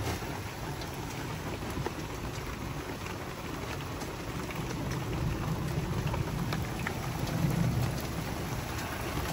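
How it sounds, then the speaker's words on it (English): Steady rain drums on the pulled-down canvas covers of a safari vehicle, a dense continuous patter with low rumbling underneath that builds slightly toward the end. "An hour later, it started raining."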